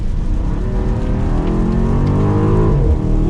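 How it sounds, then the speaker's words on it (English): A 2023 BMW X6 M Competition's sport exhaust rumbles loudly and continuously as the driver drops a couple of gears approaching a right turn in wet weather, rising engine tones with pops over a steady low roar. "We also have the exhaust on, and we're gonna drop a couple gears here as we come up to a right turn"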